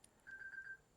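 A mobile phone gives a short, faint electronic ring made of a few quick, evenly spaced beeps lasting under a second, in a quiet indoor room.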